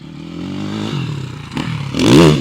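A motocross motorcycle accelerates hard on the new Ernée track, its engine note rising in pitch and swelling louder toward the end, with a brief clattering scrape partway through, heard close and without talk.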